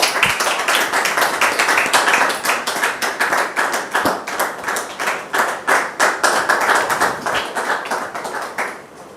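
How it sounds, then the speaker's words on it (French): A studio audience claps steadily to welcome a woman guest onto a stage, loud, even rhythmic clapping running the full length with no talk over it. "Recevons maintenant Dame Doriane sous vos applaudissements, s'il vous plaît."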